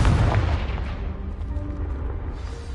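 A Confringo blasting spell in the game Hogwarts Legacy sets off a heavy explosion against a pile of blocking debris, a loud close boom with rumbling low end that decays slowly over a few seconds, with no talk over it.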